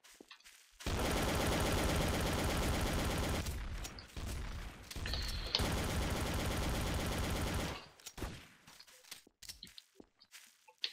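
Gunfire in the video game TTT: two long, loud stretches of rapid automatic shots separated by a short gap, then scattered footsteps and clatter trailing off.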